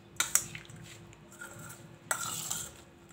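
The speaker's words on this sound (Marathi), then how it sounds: "हे बघा सगळं असं मिक्स करून घ्यायचं" A sprouted moong salad being mixed in a bowl, giving soft clinks of a spoon against the bowl and light scraping in short bursts, quiet and close.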